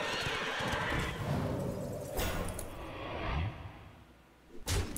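A game card called Bone Mare brings a horse whinny with clip-clop hooves and a whooshing effect, followed by a sharp closing thump.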